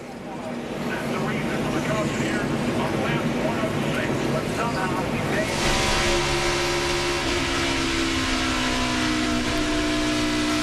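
Nationwide Series stock car engine roars at full throttle on track at the 2008 Dollar General 300, a steady loud drone that shifts pitch midway as the car accelerates, with commentary talk running underneath.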